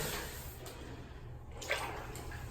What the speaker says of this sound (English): And I'm going to wash this good.